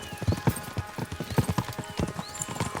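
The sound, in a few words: horses galloping, Kingdom Come Deliverance 2 video game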